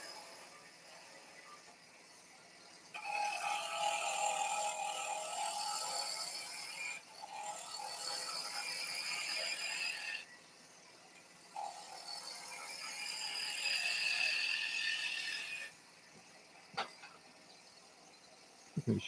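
Skew chisel cutting wood on a lathe while turning a hand mirror, with bursts of hissing, scraping cuts several seconds long separated by short pauses over a faint motor hum, and a sharp click near the end.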